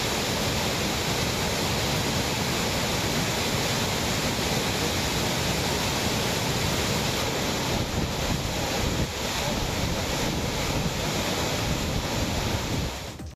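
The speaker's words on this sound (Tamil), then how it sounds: "மேற்கு தொடர்ச்சி மலைப்பகுதிகளில் பெய்து வரும் தொடர் மழை காரணமாக மேகமலை அருவியில் வெள்ளப்பெருக்கு ஏற்பட்டுள்ளது" Megamalai waterfall in the Western Ghats, swollen by continuous rain, gives off a loud, unbroken roar of rushing water. It stays dense and steady throughout with no pauses.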